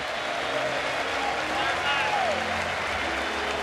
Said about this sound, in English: the crowd's going to stand and give Jurgens a standing ovation